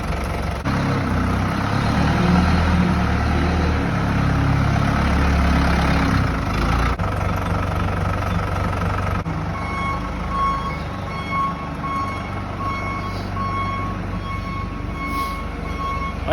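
Forklift engine idling under steady low rumble, with a repeating reversing beep alarm sounding through the second half; brief vocal whoops near the start.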